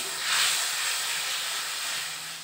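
Cumin powder, turmeric powder and salt fry in hot oil, giving a steady broad hissing sizzle that swells slightly early and holds at moderate level throughout, with no voices.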